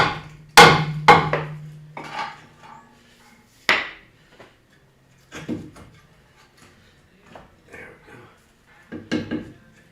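Sharp metallic smacks as a strut is knocked back into place during a strut repair on a 2012 Ford Explorer: a few hard, close blows, followed by quieter scattered knocks and clunks with pauses between them.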